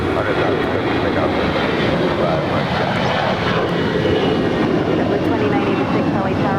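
A jet airliner rolls down LAX runway 25 right on takeoff, its engines giving a loud, steady roar that fills the whole stretch without letting up.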